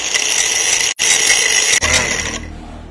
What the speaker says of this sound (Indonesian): Sekarang biar cepet saya akan pakai gerinda.